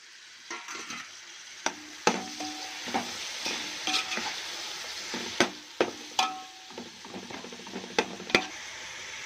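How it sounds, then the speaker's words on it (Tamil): Chopped tomatoes go into masala frying in a pan for prawn biryani: a constant close sizzle under repeated metal spoon knocks and scrapes at an irregular stirring rhythm, fairly loud, with no talking. "கட் பண்ணி வச்ச தக்காளி இதில் போட்டுக்கலாம்."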